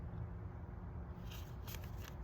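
Tarot cards being shuffled by hand at close range, a soft, continuous riffling and sliding with a faint hiss underneath, no talk.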